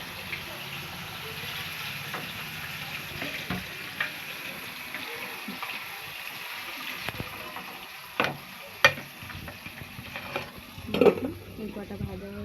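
Thin Shankar fish frying in a pan, a moderate crackling sizzle throughout with sharper spatula clinks and scrapes near the end as pieces are lifted out.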